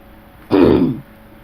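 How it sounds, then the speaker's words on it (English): A man clears his throat once, a short, rough, close burst of half a second standing out against a quiet room. "I'm sorry, I had to clear my throat."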